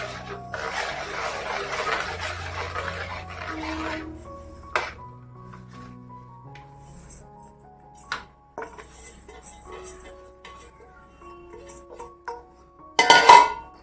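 Crushed sesame and peanut powder being stirred into bubbling jaggery syrup in a pan, heard as a scraping stir followed by scattered metallic clinks and taps of the spoon against the pan.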